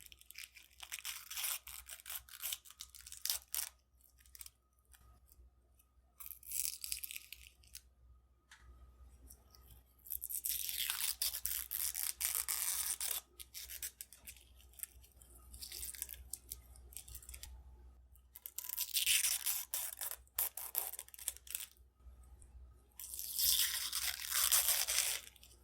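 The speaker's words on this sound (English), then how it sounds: "Now to peel off this blue film, which is the dried release agent." Blue film of dried release agent peeled from an epoxy-bedded military rifle stock, crisp crackling tears in several bursts separated by quiet pauses, close and fairly soft.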